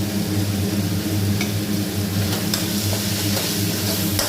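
Tomatoes sautéing with turmeric and salt for a coconut rock fish curry, giving a steady close sizzle with low stirring scrapes throughout and no talking.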